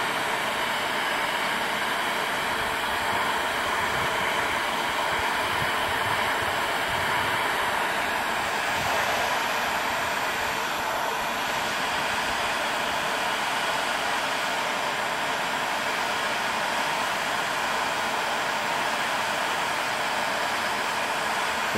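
Hot air rework gun blowing steadily onto a BGA chip on a salvaged circuit board, a continuous close, even rushing hiss of airflow with no speech over it.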